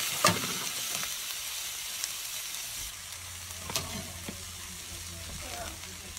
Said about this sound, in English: Now you're ready to put the lobster pieces into the wok.